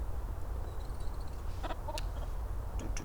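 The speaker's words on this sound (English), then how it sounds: "Chickens! Hello, chickens!" Chickens cluck softly in the video game Nightmare Frames, a few short scattered clucks over a quiet, steady rural background hum.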